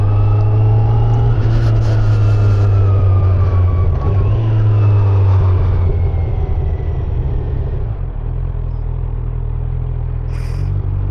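A 2025 Kawasaki Z900 motorcycle is ridden on a gravel-strewn road, its engine a loud, close, steady drone that drops to a lower pitch as the rider eases off, with wind rush throughout.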